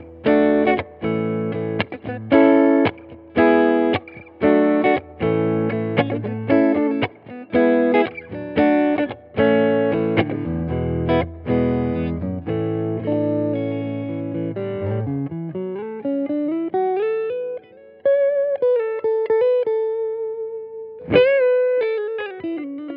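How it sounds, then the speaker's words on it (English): A PRS SE DGT electric guitar played through a Strymon Riverside overdrive pedal into a Fender Tone Master Deluxe Reverb amp, with rhythmic choppy chord stabs followed by sustained single notes and a rising bend. "going through a Strymon Riverside just to get a good overdrive sound"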